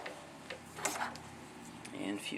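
A butane lighter clicks a few times in quick succession as its flame fuses the cut end of paracord wrapped around a small cylinder. The clicks are light and close, over a faint background hum.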